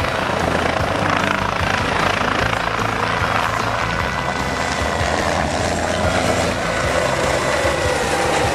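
A helicopter turbine spools up toward full power, a loud continuous roar with rotor chop and high engine whine heard from close by inside the aircraft.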